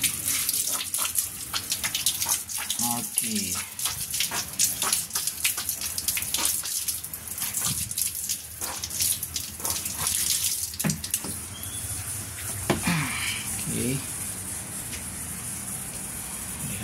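Water runs from a tap during repair of a blocked washing machine drain pipe, a steady gushing hiss with intermittent clatter and splashes, and a brief bit of talk near the end.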